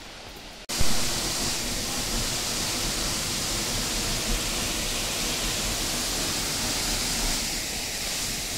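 Ulan-ulan Falls in Almeria, Biliran, pouring as a dense, steady roar of falling water, close and loud, starting abruptly after a brief quieter moment and then holding constant, with no talking over it.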